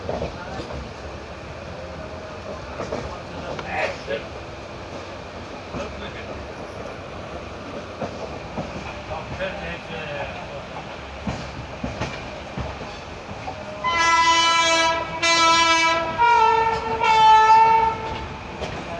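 A passenger train rolls into Manmad station with a steady rumble and clatter of wagons, then a loud, long horn blast, broken into a few pulses, sounds near the end.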